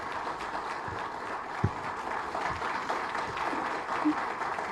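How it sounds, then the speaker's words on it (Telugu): A seated audience applauds at a Teachers' Day celebration in Karimnagar, a soft, even wash of clapping from across a hall with a few louder knocks. "మీరందరు కూడా ఒక్కసారి ఒక అష్యూరెన్స్ లాగా అందరు కూడా క్లాప్స్ ఇవ్వండి మొత్తం సభకంతా కూడా"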